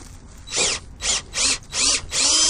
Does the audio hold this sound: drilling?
yes